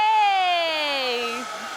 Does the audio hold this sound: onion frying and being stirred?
no